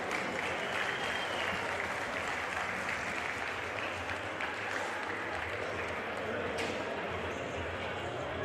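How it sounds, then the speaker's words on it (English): A boxing-event crowd applauds both fighters after an exhibition bout, a continuous wash of clapping heard at a moderate distance throughout. "Big round of applause for both boys."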